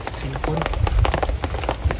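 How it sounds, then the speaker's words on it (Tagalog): Rain falls outdoors in a steady, crackling patter with scattered heavier drops, and people talk over it. "Maulan na."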